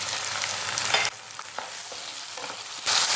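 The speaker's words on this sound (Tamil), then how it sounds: "தக்காளி சேர்த்து நல்லா வதக்கி விடுங்க." Finely chopped tomato sizzles in hot oil with onion and garlic as it is stirred in a pan for a Tamil thuthuvalai kuzhambu, a steady close frying hiss broken by a scrape and a loud burst near the end.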